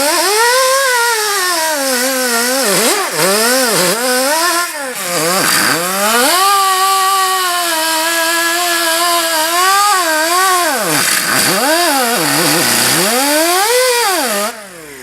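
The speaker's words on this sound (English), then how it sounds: "But I like to take a wire brush like" A wire brush cleans surface rust off a front brake rotor on a Dodge Dakota 2WD. A loud, continuous motor-like whine rises and dips in pitch for about fifteen seconds.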